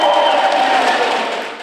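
A crowd of fans cheers at a youth team match, a steady loud roar of many voices that holds for a moment and then begins to fade.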